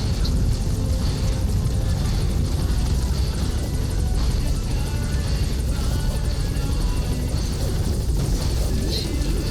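A support helicopter arrives in Metal Gear Solid V, its loud, steady rotor and engine roar filling the whole stretch without a break.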